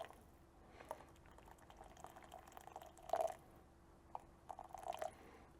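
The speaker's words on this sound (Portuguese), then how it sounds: "a gente vai completando a nossa prensa francesa" Hot water poured from a kettle into a French press to brew coffee, a quiet trickling stream with a few louder splashes and gurgles near the end, no talking.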